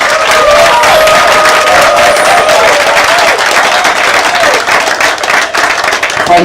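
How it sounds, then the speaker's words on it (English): A crowd at a Bayelsa State police command gathering gives sustained applause, dense and loud, with cheering mixed in throughout. "We give our able governor round of warm ovation"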